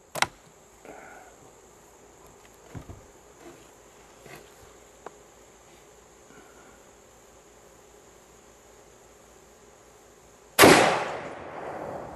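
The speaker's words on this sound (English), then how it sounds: "let's shoot one down here and bust up a bowling ball" A .270 rifle fires at a bowling ball: one sharp, loud blast near the end shatters into a decaying crash, after a long quiet stretch with a steady high whine and scattered faint ticks.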